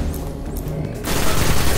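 Rapid automatic gunfire from a high rate of fire weapon in the Destiny video game, a dense continuous burst that grows louder and fuller partway through, with no voices over it.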